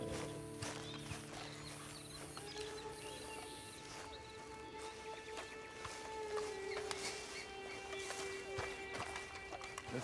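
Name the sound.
horse hooves clip-clop in Red Dead Online video game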